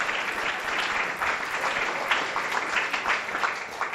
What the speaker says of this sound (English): now's the time for you to applaud for me.